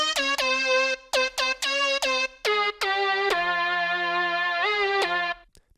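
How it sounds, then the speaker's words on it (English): A tech house synth lead called Lead Ground, played alone as a short rhythmic riff of stabbed notes that settle into longer sustained tones with a buzzing, harmonically rich vibrato and a slight pitch bend near the end. "Lead ground has that nice vibration in it."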